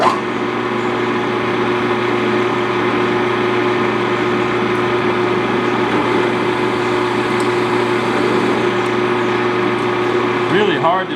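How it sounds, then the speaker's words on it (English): A drill press runs with a steady motor hum while boring through hard cocobolo driftwood, holding a continuous even drone throughout with no clear bite changes. "Really hard to drill through even with the press."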